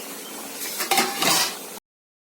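Metal pot and serving utensils clink and scrape while squash and egg curry is dished out, with a couple of brief clattering knocks over a soft steady background hiss.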